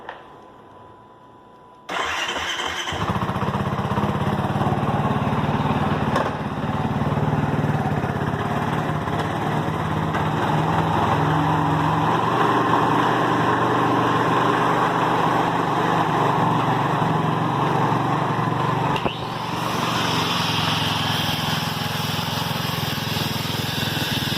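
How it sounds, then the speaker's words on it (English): A Kawasaki KFX450R ATV engine starts and settles into a steady hot idle in first gear with the rear tires spinning, a loud continuous mid-pitched drone lasting about twenty seconds that eases slightly near the end. "Now we're going to start the ATV and put it on hot idle and put it in first gear so the rear tires are spinning"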